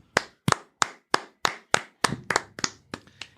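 Slow, evenly spaced hand claps greet a latecomer, about eleven crisp, close claps in a deliberate rhythm with no talking.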